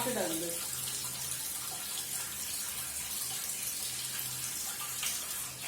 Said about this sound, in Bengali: মাছ একদম ফাইনাল করে ধুয়ে নিয়েছি।